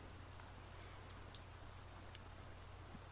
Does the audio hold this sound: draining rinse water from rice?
no